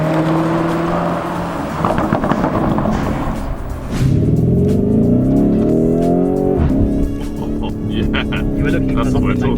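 A Lamborghini Urus, a 600-horsepower SUV with a quiet cabin, pulls hard from inside, its engine rising through several gears with a quick DSG gearshift dip around the middle, steady and prominent under occasional talk.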